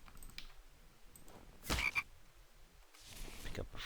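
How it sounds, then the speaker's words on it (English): Frogs croak in a winter setting of a survival video game, two or three croaking bursts spaced over a few seconds against a quiet background. "At least the frogs don't disappear during winter,"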